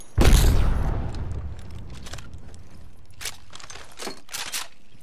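A frag grenade detonates in a video game firefight, a loud close boom with a long rumbling tail, followed by scattered sharp cracks and clicks of gunfire and effects.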